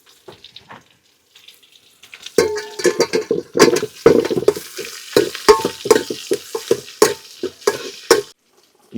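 Onions, chili and garlic frying in a pan, with a loud, close sizzle and rapid, rhythmic clinks and scrapes of a large metal ladle stirring, briefly pausing near the end.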